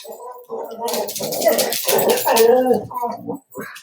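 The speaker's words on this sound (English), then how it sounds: "the dog must have seen a squirrel" Remy, a dog at home, lets out a run of close, loud whining, yipping barks and gruff grumbles lasting a few seconds, with short gaps between bursts.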